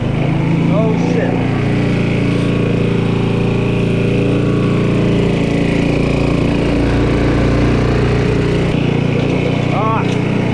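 A neglected old lawn mower engine runs loud and close throughout, a rough continuous drone that surges as it revs, with voices talking over it.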